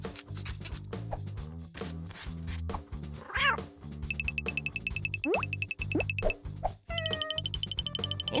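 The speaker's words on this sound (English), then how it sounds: "It's Frankenstein's cat." A toy cat made up as a Frankenstein's cat gives meow-like calls over busy crafting clatter and music, with beeping electronic tones near the end.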